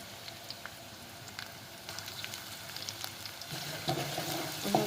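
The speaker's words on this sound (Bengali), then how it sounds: "চাটি দিয়ে একটু পেঁয়াজগুলো বেজে নিচ্ছি একটু বাদামি কালার করে নেব" Chopped onions fry in a pan over raised heat, a fine continuous sizzle with light crackles and occasional spoon scrapes that grows a little louder toward the end, close up, with no voices.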